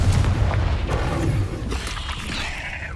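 A Confringo explosive spell in Hogwarts Legacy on PS5 lands as a heavy, close boom with a rumbling crash, then a fading rumble and scattered debris noise.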